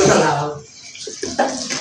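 Water runs from a tap into a container, a steady rushing splash close by, with a voice speaking over it at the start.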